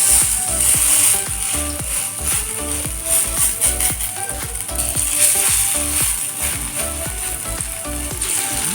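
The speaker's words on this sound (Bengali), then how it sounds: "এবার তেলটা গরম হয়ে গেলে এর মধ্যে আমি অল্প অল্প করে পটলের লতি মাখানোটা আমি দিয়ে দিচ্ছি" Batter-coated pointed gourd vine shoots frying in hot oil, a steady loud sizzle with bubbling crackle and intermittent scraping clicks of utensils against the pan, close up and without talk.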